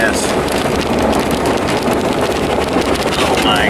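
Steady, rushing wind buffets the microphone throughout, a loud broadband roar with faint motion noise underneath.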